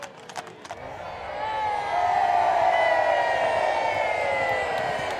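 Large outdoor crowd of over 5,000 at Hawick Common Riding cheering on the Cornet and riders, a steady roar of voices and whoops that swells louder midway and stays sustained.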